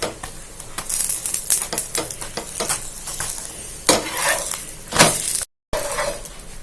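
A mooli paratha is pressed and roasted on a hot griddle, with a close sizzle mixed with scraping, pressing utensil sounds and a few sharper clatters, and the sound briefly cuts out near the end.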